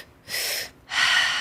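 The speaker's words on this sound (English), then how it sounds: "the most powerful moment is when I turn the music off and we're all breathing together" Two strong, close breaths during a breathwork session, a sharp inhale followed after a short pause by a longer forceful exhale, loud and airy with no talk.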